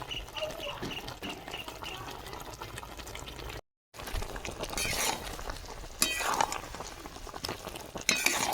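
Tangy-sweet-spicy amla pickle is stirred and poured out of a wok, with soft scraping and wet clinking sounds, a brief gap, then louder scrapes and pours, all fairly quiet.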